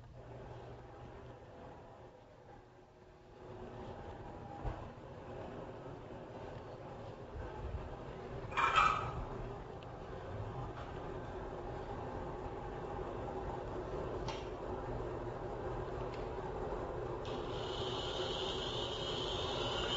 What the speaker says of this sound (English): what exactly is going on inside of a hard drive when it is actually running in your computer